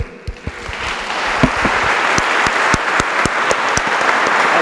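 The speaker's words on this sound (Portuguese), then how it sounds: "Você pode aplaudir a Deus?" Congregation at an IPI church service applauding together, a dense steady wash of many hands clapping with a few sharper individual claps standing out near the start.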